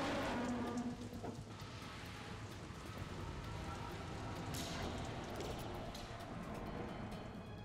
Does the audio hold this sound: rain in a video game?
yes